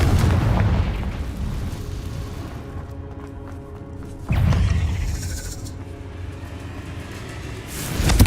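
Confringo blasting spell fired in Hogwarts Legacy, a heavy booming explosion with a rumbling tail, followed by a second loud blast and more rumble amid game combat.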